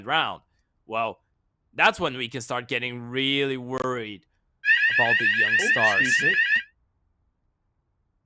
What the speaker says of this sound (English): That was the T-side alarm.